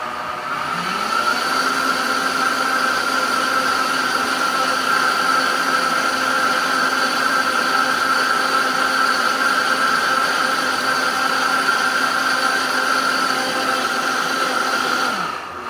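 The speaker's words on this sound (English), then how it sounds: "You're gonna come over here to the clean setting right here. And you're going to just press that, hit start, watch it go." A Vitamix blender running its clean setting: a steady, loud motor whine that holds for the whole stretch with a strong sustained tone, spinning up at the start and cutting off at the end, with no one talking.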